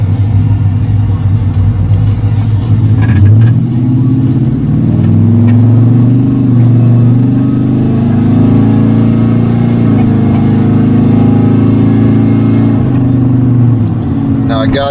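A deep, loping cammed 6.2-liter V8 car engine rumbles steadily, its tone rising and falling as it accelerates moderately, loud and close throughout.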